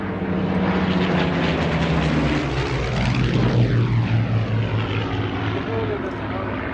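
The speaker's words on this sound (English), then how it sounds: "A Mark III Merlin engine developing 1185 horsepower powers the aircraft." A Canadian-built Hawker Hurricane with a Mark III Merlin engine drones steadily and loudly, its propeller roar swelling and shifting in pitch as it passes close by, with no talk over it.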